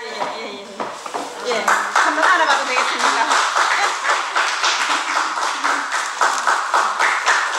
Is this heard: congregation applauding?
yes